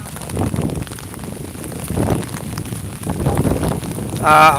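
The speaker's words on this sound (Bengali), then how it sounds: "প্রচুর ঝড় বৃষ্টি দিচ্ছে" Heavy storm wind and rain sweep over a flooded village near Sylhet, a rough continuous rush with gusty swells and wind buffeting the microphone, no voices.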